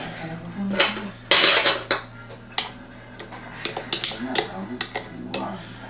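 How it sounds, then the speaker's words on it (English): Stand mixer head lifted and paddle attachment pulled off after mixing cinnamon bun batter: a run of close metallic clanks, clicks and rattles at irregular intervals, over a steady low motor-like hum. "Just going to take that off there because we want to remove our paddle attachment."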